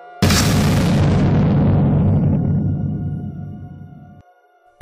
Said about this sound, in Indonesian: Dentuman yang memekakan telinga mengguncang seluruh bangunan.